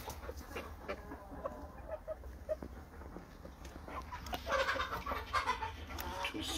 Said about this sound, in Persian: اینم که همون خروس هست.